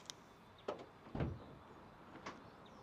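Power sliding door on the side load compartment of a Volkswagen Transporter T7 van, heard as a few faint clunks and a soft rolling slide, quiet and close.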